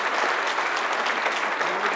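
Audience applause congratulating Vinod at a talk, a dense steady burst of many hands clapping at close range, sustained evenly throughout with no voices rising above it.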